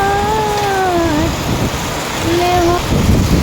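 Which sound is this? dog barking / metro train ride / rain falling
rain falling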